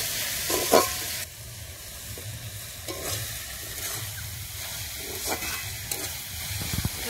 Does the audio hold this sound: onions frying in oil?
yes